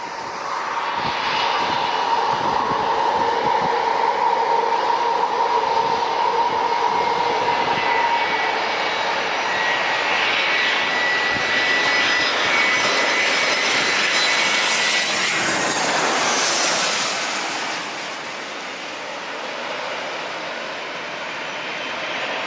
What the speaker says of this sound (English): We got a landing.